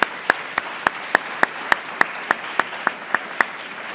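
An audience claps through a law school welcoming ceremony, crisp individual claps landing in a steady rhythm roughly every third of a second, with no talking over them.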